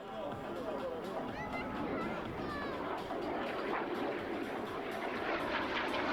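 A jet trainer with a single Rolls-Royce Bristol Viper turbojet flies at an airshow in Varazdin, Croatia, a continuous roaring, hissing engine noise with crowd chatter and voices mixed in.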